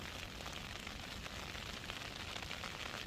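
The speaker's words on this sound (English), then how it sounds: "it sounds like it's changed to a mix of snow now, snow and rain." Mixed snow and rain pelting a hammock tarp during a 19°F winter night camp, a faint, dense, steady patter and hiss with no pauses.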